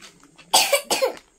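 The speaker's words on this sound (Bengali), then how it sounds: "কাশি হচ্ছে এখনো, দেখেছো তো?" A sick child coughs twice in close succession, two sharp, loud bursts that stand alone in a quiet room.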